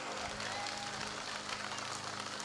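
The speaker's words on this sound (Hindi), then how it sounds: "जोरदार तालियां बजाओ भाई साहब के लिए।" An audience claps at a gau daan (cow donation) fundraising gathering, producing dense, steady clapping that fills the clip at moderate loudness without pause.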